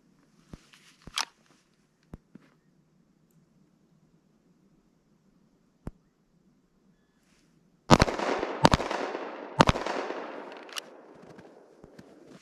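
Several sharp pistol shots ring out during an FBI firearms qualification drill from low ready, a close, loud string of three to four cracks around the eight to ten second mark, each followed by a brief echo, after quieter handling clicks and footsteps.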